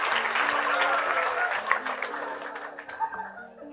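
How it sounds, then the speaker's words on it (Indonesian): Audience applause at a talk, a steady wash of many hands clapping that slowly thins out, with a voice speaking over it. "tepuk tangan Mas Santo."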